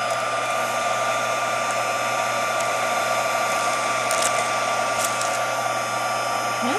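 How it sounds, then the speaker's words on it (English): An embossing heat gun blows steadily over melting UTEE embossing enamel, giving a continuous close, loud whooshing roar with an even level throughout and no voices. "I'm going to take my embossing gun and emboss it and see what happens."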